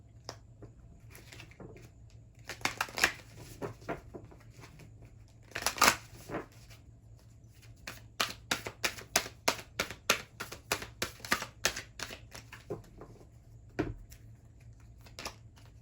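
Moonology oracle cards are shuffled in the hands, a quiet, close series of soft riffling flicks and taps in uneven bursts over a faint steady hum, with no voices.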